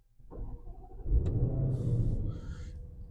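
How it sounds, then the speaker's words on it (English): A 2022 Land Rover Defender 90 P525 supercharged V8 engine cranks and catches, settling into a deep, rumbling idle close by; a brief electronic chime sounds partway through. "And now you've got that really nice deep sound of the V8."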